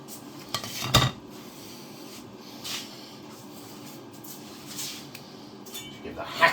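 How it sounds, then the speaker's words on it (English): A pizza being cut up outdoors with a hatchet beside a pot gives off sparse metallic scrapes and clinks, one sharp knock early then quieter scraping strokes, faint and intermittent. "Well, I'll cut my pizza up."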